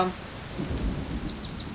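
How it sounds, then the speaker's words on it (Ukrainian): Rain falls in a garage in the My Summer Car video game, a steady moderate hiss with low rumbling swells and no talk over it. "Ще й в гаражі дощ, ну прикольно взагалі."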